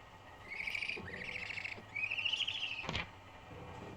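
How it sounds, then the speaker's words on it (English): Short synthesized bird chirps from an I Spy treasure-hunt game, several bright tweets in quick succession, fairly faint and alone with no talk over them. "One bird."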